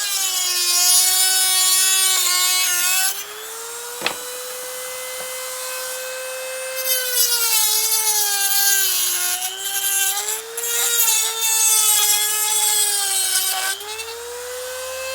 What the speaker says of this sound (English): again with the cutting blade, we cut the legs where marked